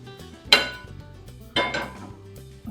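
Two metal clanks a second apart as a pan is set down on a stove burner, each a sharp bright hit with ringing decay over a soft background hum, no talking.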